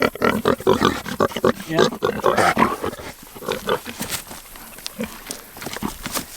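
Pigs on a farm grunt and snuffle in a busy, irregular run of close, rough bursts, loudest in the first half, with a voice briefly under them.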